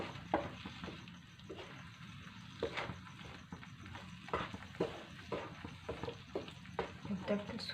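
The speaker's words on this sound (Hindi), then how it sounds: "लो आंच पे हमें अच्छी तरह मिक्स करना है।" A spoon stirs semolina in a pan over low heat for homemade suji gulab jamun, making soft, repeated scraping strokes with a faint sizzle, close by and fairly quiet.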